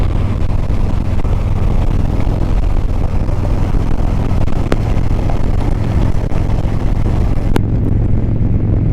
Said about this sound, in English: So let me see if I can get over here without getting hit by a car.